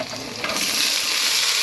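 Washed vegetables drop into a hot pan in a village kitchen, and the sizzle swells sharply midway into a loud, steady hiss that carries on to the end.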